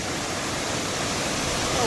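Strong, steady rush of water flowing hard near Kundi waterfall, a loud, dense broadband roar that stays constant close by throughout.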